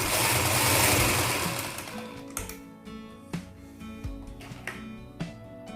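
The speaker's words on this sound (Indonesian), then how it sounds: "baru kita lanjut jahit" A sewing machine whirs in a fast continuous run while stitching a gamis, then breaks into short separate bursts and clicks as the fabric is adjusted, close and fairly quiet.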